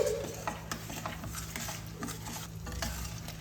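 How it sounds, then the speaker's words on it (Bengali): Poppy seed paste being stirred into masala in a pan for Bengali doi katla: quiet continuous sizzle with repeated light scraping and clinking strokes of a spatula against the pan, no talk. "এটা একটু নাড়াচাড়া করে নিয়ে এর মধ্যে মশলাটার মধ্যে ভালোভাবে মিশিয়ে নিচ্ছি"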